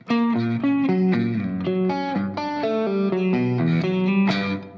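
A heavily effected, distorted electric guitar plays a repeating riff of sustained notes, ringing with chorus and a slight echo.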